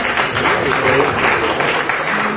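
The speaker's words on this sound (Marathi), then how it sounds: "अरुणजींसाठी एकदा जोरदार टाळ्या द्यायला" Loud, dense audience applause fills a hall at a Marathi film music and trailer launch event, a continuous steady roar of many hands clapping throughout.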